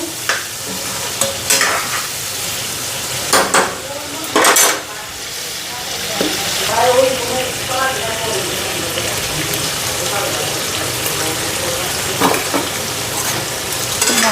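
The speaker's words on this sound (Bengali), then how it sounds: "মশলাটাও দেওয়া দেবো একটু ভাজা ভাজা হয়ে গেছে" Spices fry with shidol shutki dried fish, a continuous sizzle with repeated spatula stirring and scraping against the pan, up close, with occasional clinks.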